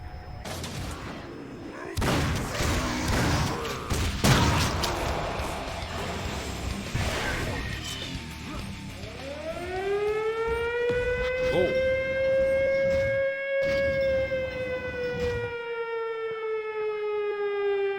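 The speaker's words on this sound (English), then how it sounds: "I'm not sure if the siren went off originally." A civil defense siren goes off in the video game Painkiller: Hell & Damnation, rising into a loud, sustained wail that holds steady after a burst of gunfire and explosions, with a brief voice in the mix.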